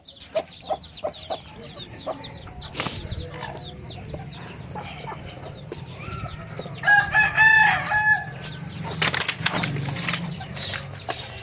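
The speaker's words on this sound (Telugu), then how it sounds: "చూసారు కదా, ఇవే డబుల్ బాడీ పెట్టెలు." Medak breed chickens in a Telangana poultry setting: hens cluck repeatedly over a steady low hum, and a rooster crows loudly partway through, with brief wing flaps and scattered bird calls.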